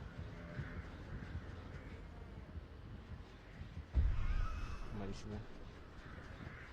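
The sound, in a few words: crow cawing in video game Dead by Daylight Mobile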